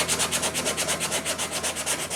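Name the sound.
sanding wood with 60 grit sandpaper on a block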